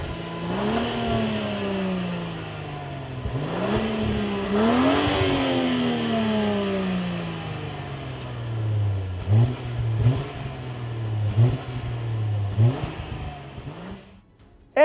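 A 2024 Range Rover Velar P400 engine revs loudly and accelerates through several rising gear pulls with clear shift breaks, then settles into a steadier lower drone, heard close and alone without speech.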